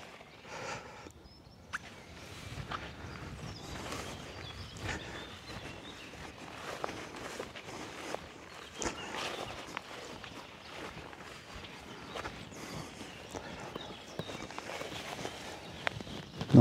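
Footsteps crunch and shuffle around an ultralight Zpacks Duplex Zip tent outdoors, a steady uneven series of close, soft steps with no talking.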